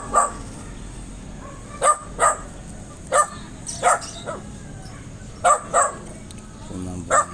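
A dog barks in short sharp bursts, mostly in pairs, spaced a second or so apart at a moderate distance outdoors in a vegetable garden, with a voice speaking quietly in between.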